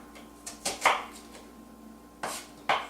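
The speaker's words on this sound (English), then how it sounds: "chop it all up into small diced pieces" A knife dices food into small pieces on a cutting board, giving a handful of sharp, close chopping strikes in uneven bursts.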